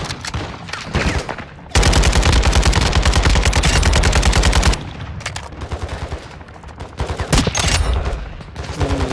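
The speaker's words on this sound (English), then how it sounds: "I'm getting shot at big time" Rapid automatic gunfire in a multiplayer shooter game, a loud sustained burst of fast shots lasting a few seconds, with more scattered shots before and after, close and harsh with no talk.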